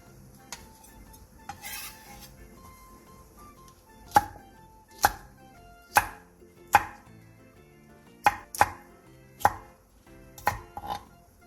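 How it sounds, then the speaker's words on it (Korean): A knife slices whole garlic cloves and roughly chops green and red chillies on a board, about ten crisp, well-spaced cuts over a faint steady background, no voices. "통마늘 10개를 편썰고 청양고추 2개와 홍고추 1개를 큼직하게 잘라주세요."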